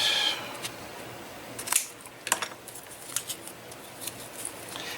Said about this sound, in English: So I'm going to go ahead and cut a few of these up.